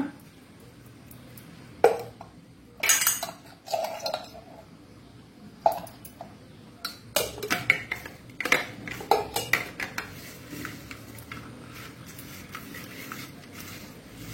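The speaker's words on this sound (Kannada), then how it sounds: "ಆ ಬೆಲ್ಲ ಮತ್ತು ತೆಂಗಿನ ತುರಿ ಒಳ್ಳೆ ಮಿಕ್ಸ್ ಆಗಬೇಕು" A spoon mixes jaggery, grated coconut, crushed cardamom and ghee in a pan for rava patholi. Scattered sharp metallic clinks and scrapes come at irregular intervals over a quiet background.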